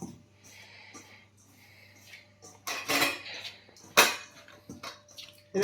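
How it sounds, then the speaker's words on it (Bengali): A mixture seasoned with a little sugar is mixed by hand or spoon in a bowl, giving soft wet squelches and intermittent clinks and scrapes against the dish, close and quiet with a couple of sharper knocks. "এটা ভালো করে মাখিয়ে নিলাম"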